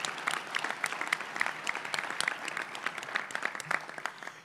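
Audience applause at an oath-of-office ceremony honoring supporters, many people clapping in a steady, crisp patter throughout, moderately close.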